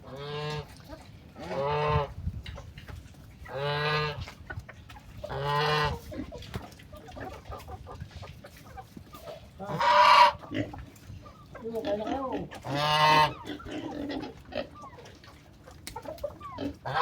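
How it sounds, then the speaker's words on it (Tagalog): Geese and other farmyard animals, with pigs and chickens also kept, on a Filipino farm: a series of loud, separate honking calls spaced a second or two apart, close by, with other animal cries mixed in. "Tsaka mayroon pa tayong gansa."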